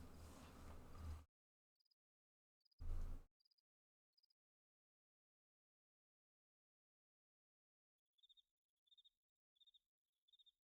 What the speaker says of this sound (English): I hear another set of crickets.